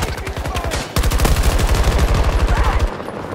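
Rapid automatic gunfire in a multiplayer shooter game, a dense rhythmic burst of loud close shots that runs for about two seconds after an opening volley, then cuts off into ambient noise.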